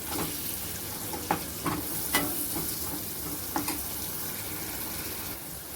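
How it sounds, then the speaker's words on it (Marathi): Ground masala paste sautés in hot oil in a pan, a soft continuous sizzle broken by several distinct stirring scrapes and taps, fairly quiet and without talk. "छान मसाला पण आपला परतून घ्यायचा याच्यामध्ये."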